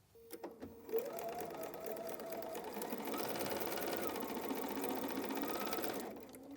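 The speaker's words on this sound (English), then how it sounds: "Okay, let's go sew that." A sewing machine stitches a seam on a quilted wall hanging, starting with a few slow stitches and then running steadily at a fast, even pace, close and continuous before it stops, with no voices.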